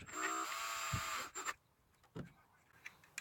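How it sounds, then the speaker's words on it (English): A small electric drill whines at a high pitch for about a second, drilling a hole for a tailgate handle, and then stops, followed by faint clicks and handling noises. "So I'm just going to drill a hole right in here."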